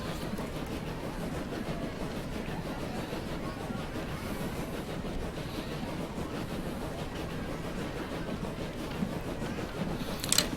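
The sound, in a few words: train running on rails in video game Transport Fever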